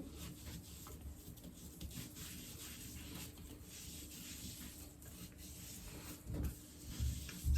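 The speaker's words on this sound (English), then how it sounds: "I kind of just keep going over until the cotton round feels like it's quite dry" A cotton round rubbing steadily over facial skin and eyelashes to remove makeup, a soft continuous close-up scrubbing swish with a few slightly louder strokes near the end.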